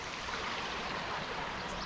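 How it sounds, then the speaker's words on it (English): Two small burns meet and flow together near Auchenblae in Scotland, making a constant, full rushing and gurgling of water close by, steady from start to finish with no talking. "Oh, two streams come into this one area."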